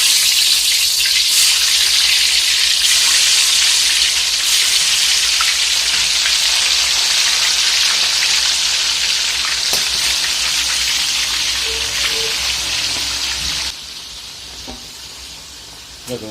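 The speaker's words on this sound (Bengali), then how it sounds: "বিরিয়ানির জন্য যে চিকেনটা ম্যারিনেট করে রেখেছিলাম সেটাকে এবার হালকা করে ফ্রাই করে নেবো" Marinated biryani chicken frying in oil, a loud, dense, rain-like sizzle that holds steady for a long stretch before easing off near the end.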